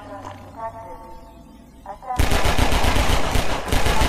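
Sudden burst of rapid automatic gunfire in the video game Half-Life 2, loud, close and sustained for about two seconds, following a quieter stretch with a voice speaking.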